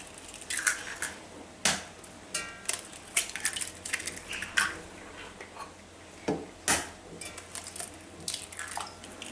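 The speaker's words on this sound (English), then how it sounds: "Now into a mixer jar, I'm going to crack in the eggs." Eggs cracked one after another into a mixer jar for a whole wheat pineapple upside down cake batter, giving sharp close taps, cracks and wet drips in an irregular sequence, with no talking.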